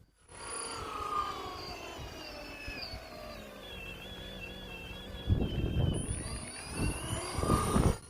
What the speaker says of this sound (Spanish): al probarlo, se notó una vibración proveniente del motor